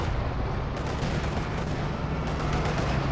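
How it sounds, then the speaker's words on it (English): A Panzer tank firing amid a Company of Heroes 2 battle: dense, continuous booming and crackling gunfire layered over a steady rumble, loud and unbroken for the whole stretch, with no voices. "Sure, Panzer is firing away."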